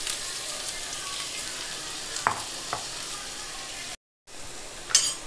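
Chopped onions sautéing in ghee, giving a steady, even sizzle with a couple of light taps of a spoon, a short silent gap, then the frying returns with a brief scrape.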